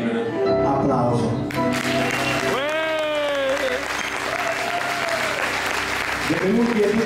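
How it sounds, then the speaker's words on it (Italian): An audience applauds in the Falcone Borsellino theatre in Limena, Italy, during a musical evening with an orchestra. The clapping is steady and fairly full, mixed with a voice and tonal sounds that rise and fall. "Applauso."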